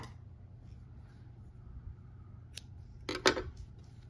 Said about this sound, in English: And I'm going to cut my yarn.